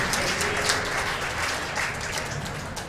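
Crowd applause fills a handball court at a four-wall world championship match, a steady dense clapping wash held at even loudness throughout with no voices standing out.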